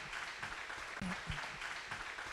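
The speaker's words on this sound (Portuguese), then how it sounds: "Vamos aplaudir então a palavra do nosso Deus" Church congregation applauds after a Bible study on Psalm 23, a quiet, steady wash of many hands clapping with a couple of low thumps partway through, no speech.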